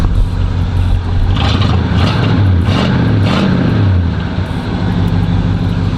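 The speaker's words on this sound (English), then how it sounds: "Let me give y'all a quick rev" An Oldsmobile Cutlass V8 engine runs loud and close, with a throaty roar rising and falling through a couple of revs before settling back to a steady idle.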